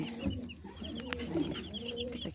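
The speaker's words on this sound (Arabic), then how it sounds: "بصوا كده الكتاكيت بتاعتنا الحلوة" Baby chicks peeping in a small brooder under a lamp, with repeated short high chirps over a low background hum.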